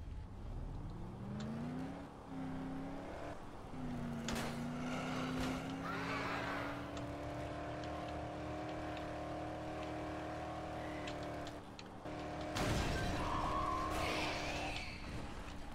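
Car engine in the Dead Island video game, a steady droning hum that climbs in pitch as it accelerates and holds a sustained note, with brief bursts of noise partway through and near the end.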